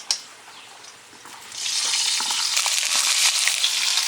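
Pieces of pointed gourd (potol) being fried in a pan for a prawn-stuffed dorma, a steady hissing sizzle that builds after a quieter start and holds close and loud, with no talk.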